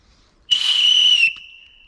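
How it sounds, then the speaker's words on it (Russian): A survival whistle is blown in the forest to scare off wild animals: a single shrill, piercing blast lasting under a second, loud and close, with no other sound around it. "Но самая главная функция этого свистка – пугать зверье."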